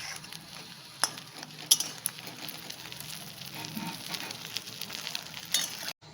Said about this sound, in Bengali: আমি এখানে মাছের ডিমের বড়াগুলো এক এক করে ভেজে নিচ্ছি